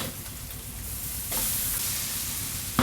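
Ginger and garlic paste sizzles steadily in hot oil while a roadside-style chicken salna is cooked, a continuous close crackling hiss that brightens partway through, with no one talking.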